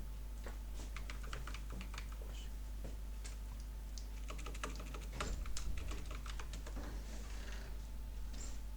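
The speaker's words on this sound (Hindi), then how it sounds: "अब मैं ज़रा एआई लिखता हूँ यहाँ पे" Rapid, irregular clicking of keys on a computer keyboard, close up and steady over a low constant hum, with short bursts and pauses between words.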